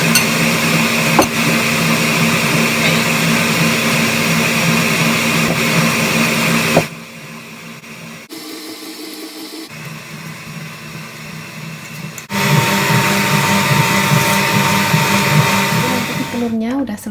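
An electric mixer beats eggs for a pandan cake with a steady, loud whirring drone that drops off briefly in the middle, then resumes at full strength.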